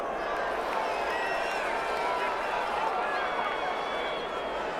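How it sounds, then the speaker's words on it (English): A home crowd in the NFL 21 football video game cheers a referee's call, a dense, continuous roar of many voices that stays loud and steady throughout. "This home crowd, they're happy with that call."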